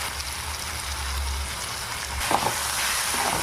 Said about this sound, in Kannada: ಇವಾಗ ಚೆನ್ನಾಗಿ ಫ್ರೈ ಮಾಡ್ಕೊಳ್ಳೋಣ.